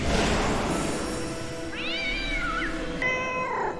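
A cat meows twice in a TV drama scene: a rising-falling mew and then a second, longer one. Both sound fairly close and stand out over a steady background of room tone and score.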